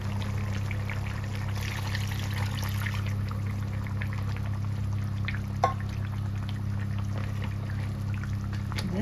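Coconut milk pours steadily into a crab curry in a clay pot, a soft continuous liquid trickle and dribble over a low kitchen hum, with no one talking.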